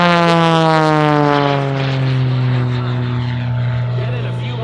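An aerobatic propeller airplane flown by Sean D. Tucker performing a double hammerhead at the Oregon International Airshow 2019, a loud droning engine whose pitch slowly falls as it climbs and pivots, with an announcer talking over it.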